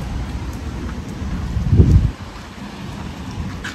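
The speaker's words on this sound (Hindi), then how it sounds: "ओहो बारिश हो रही" Rain falling at night on a city street in Japan, a steady broadband wash with a brief low rumble swelling near the middle.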